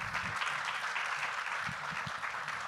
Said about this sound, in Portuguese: Aplauso, pá.